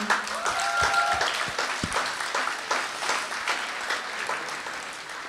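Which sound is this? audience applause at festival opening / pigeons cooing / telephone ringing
audience applause at festival opening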